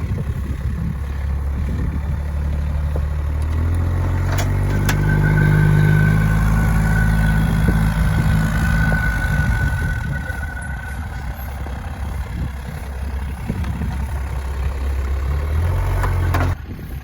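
A Polaris utility vehicle's engine idles near and then drives off on a farm, with a steady low rumble that swells as it pulls away. There are a few knocks, and no clear talk.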